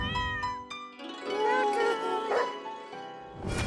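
A cat meows several times in a drawn-out, wavering way, with a couple of short mews before a longer, louder cry and a final call at the end, close and clear.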